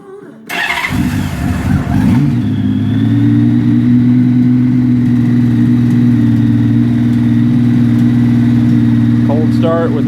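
A 2000 Honda F6 Valkyrie motorcycle cold-starts with the choke on. The engine cranks briefly, catches, then settles into a loud, steady, close-up idle that runs on without a break.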